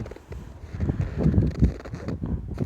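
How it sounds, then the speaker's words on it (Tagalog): Steady, strong February wind roars and buffets the microphone in low, gusty surges that swell and fade, with no voices present. "malakas ang hangin"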